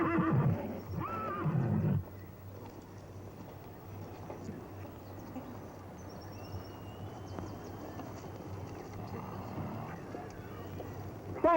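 A horse gives a loud whinny at the start, then a quieter stretch follows with faint background noise.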